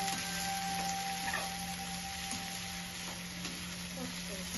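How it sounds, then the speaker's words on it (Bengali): Onions frying in a pan for Hyderabadi chicken biryani give a steady, moderately loud sizzle with faint stirring scrapes, with no one talking. "এখন আমি এগুলোকে লাল লাল করে ভেজে নিব।"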